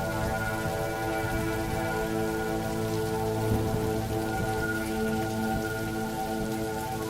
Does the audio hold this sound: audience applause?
no